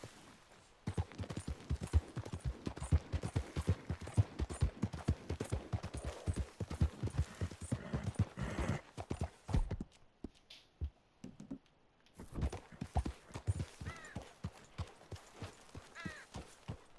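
Horse hooves clip-clop in Red Dead Redemption 2, a rapid, fairly loud rhythmic run of steps that breaks off briefly near the middle and resumes, with no speech over it.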